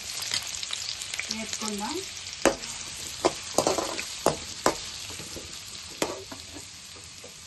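Chopped green chillies and onions dropped into hot butter for pav bhaji. They sizzle steadily while a spoon knocks and scrapes the pan in sharp clicks, and a voice speaks briefly early on.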